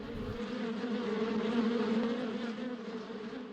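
Steady droning buzz of bees in the video game Trash Day, a continuous low hum holding at moderate level throughout with no talk over it.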